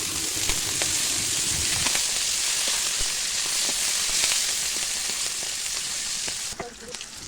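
Dried chillies and fish frying with banana blossom in a wok, a loud continuous hissing sizzle with occasional scrapes of a spatula, easing slightly toward the end.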